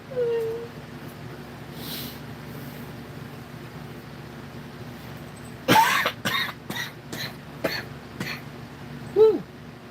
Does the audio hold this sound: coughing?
yes